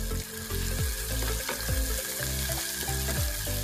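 Chicken Bicol Express being stirred in a frying pan with shrimp paste, a steady loud sizzle filling the whole clip with repeated scraping strokes of a utensil against the pan.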